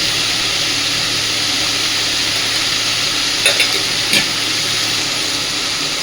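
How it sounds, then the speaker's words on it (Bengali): Continuous oily sizzle of rose apple (jamrul) being sautéed with potatoes and spices in a pan, a steady hiss with two brief scraping stirs near the end and no talking. "তো এবার মশলার সাথে আলুর সাথে জামরুলটাকে খুব সুন্দরভাবে একটু কষে নিতে হবে।"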